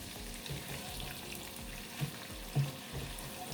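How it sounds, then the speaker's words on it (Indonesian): Chopped onions frying in butter in a pan, a steady soft sizzle running throughout with a couple of brief stir clatters, close and moderately quiet. "Kita goreng sampai layu ya."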